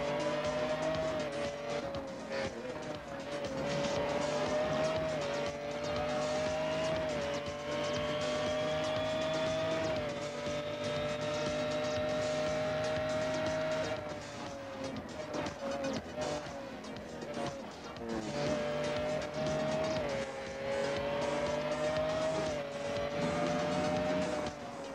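A McLaren F1 GTR race car in Real Racing 3, its engine droning steadily through gear changes and rising revs, with brief tire squeal, heard close and continuous.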